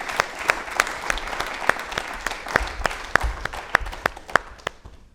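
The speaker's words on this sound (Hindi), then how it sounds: "एक बार इन लोगों के लिए तालियां हो जाएं जोरदार" An audience at a yoga programme applauds with scattered, sharp individual claps over a softer bed of clapping, fairly close, tapering off toward the end.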